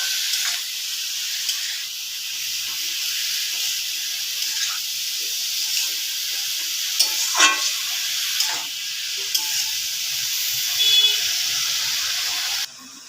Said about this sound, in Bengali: তো এখন দিয়ে দিব চিড়ে রাখা কাঁচা লঙ্কা। তো এখন না ভালো করে না ভেজে নেবো